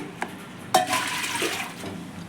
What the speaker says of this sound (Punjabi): ਕੁੱਕਰ ਵਿੱਚ ਆਪਾਂ 3 ਗਲਾਸ ਪਾਣੀ ਦੇ ਪਾਵਾਂਗੇ